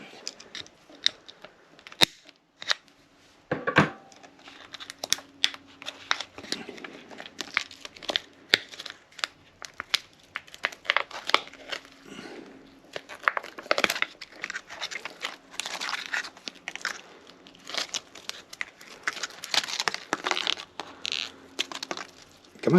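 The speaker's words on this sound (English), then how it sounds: "I'm gonna have to cut the cup" Someone cuts apart a cup packed with wax, producing close, irregular crinkling, crunching and snipping noises with short pauses between bursts.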